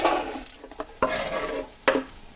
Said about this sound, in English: right now, as you can see, the vegetables are cooking and steaming so that they get that soft yet still crunchy texture